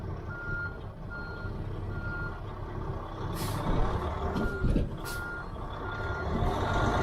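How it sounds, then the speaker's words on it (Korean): Repeated high backup beeps from a reversing excavator sound at an even rhythm over the heavy machine's low rumble, with a couple of sharp hissing bursts like air brakes. "이거 이제 포크레인이 빠져나와야 되죠"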